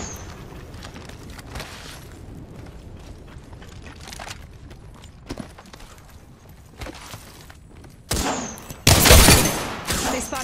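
Gunfire in the shooter video game Apex Legends, scattered shots and mechanical weapon clatter over steady game ambience, building to a loud burst of rapid fire near the end.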